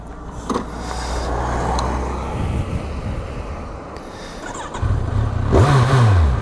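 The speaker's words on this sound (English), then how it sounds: "Sounds lovely, this particular bike." A 2017 Kawasaki Versys 1000 motorcycle engine idles and rumbles up close, then revs sharply several times near the end, with some wind noise against the microphone.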